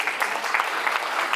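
An audience applauds at a Punjab National Bank zonal and circle office celebration, a brief, steady wash of clapping heard from a moderate distance.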